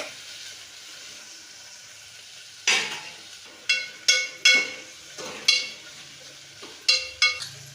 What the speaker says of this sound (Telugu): టమాటా వేసుకొని బాగా కలుపుకోవాలా